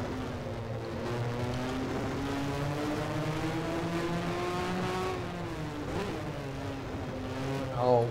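A 1983 Formula 1 car races around Sepang in a video game, its engine droning steadily with pitch rising and falling through gear changes and corners, close and continuous.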